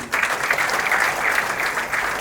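Loud, steady applause from an audience at the Chandigarh music launch of Ardaas Karaan, cheering a musician, sustained clapping without a break for just over two seconds.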